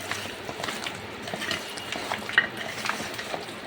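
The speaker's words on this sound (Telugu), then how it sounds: "2 టేబుల్ స్పూన్ కారం వేసి చికెన్ను బాగా కలపండి." Chicken pieces being mixed by hand or spoon with chili powder in a bowl, producing soft, close, continuous squelching and stirring sounds with an occasional faint clink.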